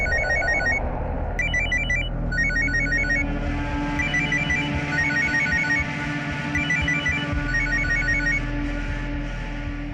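A phone ringtone repeats in short electronic bursts, loud and close, ringing on without being answered over a steady low hum; no one speaks.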